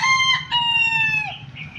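A rooster crows loudly and close, a single drawn-out call, with low background rumble.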